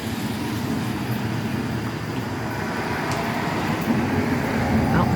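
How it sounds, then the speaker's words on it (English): Steady broadband road rumble of cars passing nearby on a rain-wet road, a continuous wash of traffic noise with a slight swell toward the end. "I don't know if you can hear from the cars."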